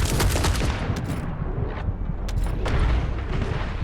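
Video game gunfire during a boss fight, a dense, loud barrage of rapid shots and booming impacts that runs continuously, with no voices.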